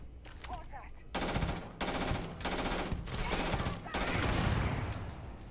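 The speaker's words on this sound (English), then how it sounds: "that was a good explosion" Explosion in the Starfield video game: loud, dense bursts of blasting noise in several heavy pulses, one after another with short gaps, no voice over it.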